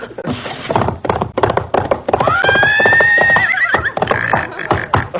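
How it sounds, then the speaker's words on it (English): A vintage radio quiz show plays a sound effect of horses. A loud, close whinny rises in the middle, surrounded by quick rhythmic hoof clops and knocking. "this is marked horses"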